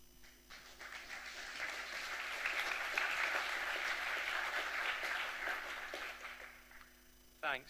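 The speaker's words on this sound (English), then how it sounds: "Give Scott some clapping." Conference audience applauding a speaker at a Python talk, a steady sustained wash of clapping that swells and holds for several seconds, with a voice briefly underneath and a short louder burst at the end.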